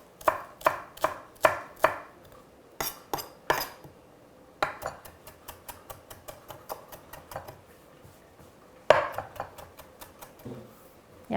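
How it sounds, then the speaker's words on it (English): Fresh parsley is chopped with a chef's knife on a cutting board: crisp, close knocks in quick bursts separated by short pauses, with no talking. "I'm folding up that parsley, and again, I'm just going to chop it up here."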